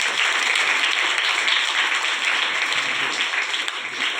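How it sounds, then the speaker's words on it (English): Students at Dawn High School give their law guests a round of applause, a continuous wash of clapping from a crowd, even and fairly loud throughout. "Give them a round of applause to them."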